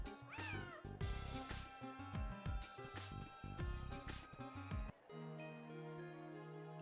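Several meows from in-game cats in Phantasy Star Zero ring out in a rapid cluster over bright game music, then stop, leaving a steady music bed.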